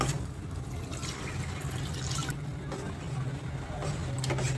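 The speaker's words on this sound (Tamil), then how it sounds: "இப்போ இதில் தண்ணி சேர்த்துக்கலாம்" Water runs and splashes steadily into a cooking pot of sambar, a continuous liquid pouring sound close by with a low hum underneath.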